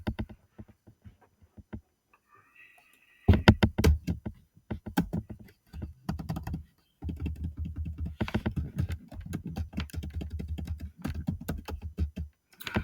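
Keys clatter on a computer keyboard in a few sparse taps, then a long run of rapid, close typing with brief pauses.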